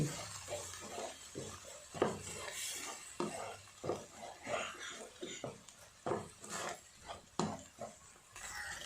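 Andhra-style curry masala with tomato paste is stirred and fried in a pan, giving soft, rhythmic scraping strokes of a spoon over a faint sizzle, quiet and fairly close.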